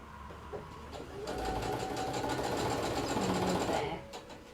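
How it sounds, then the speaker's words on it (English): A sewing machine runs a basting stitch on a reversible tote bag, a steady close whirr of about three seconds with a soft start and stop. "we are going to just baste this one"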